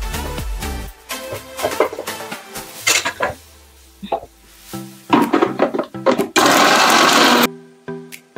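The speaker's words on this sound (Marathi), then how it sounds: "ती पण मिक्सरला पूर्ण बारीक घेऊन घ्यायची आहे." A mixer grinder grinds roasted millet and lentils in a home kitchen, rising to a loud, steady whir for about a second. Clattering and stirring sounds from pots and utensils come before it.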